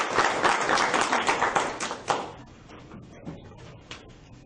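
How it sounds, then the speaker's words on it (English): Applause from attendees at a school board meeting, a dense burst of many hands clapping that fades out after about two seconds, leaving scattered claps and quiet room noise. "So just a round of applause for all their efforts"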